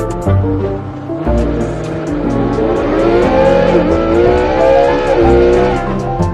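Ferrari sports car engine revving hard and close, rising and falling through several loud high-pitched pulls with a throaty growl underneath.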